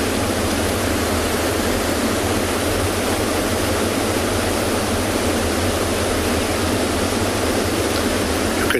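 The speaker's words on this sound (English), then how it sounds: "in the background, you can hear the waterfalls of this river rolling down from" Waterfalls on a river pour down over rocks in a loud, unbroken roar of rushing water that holds steady from start to finish.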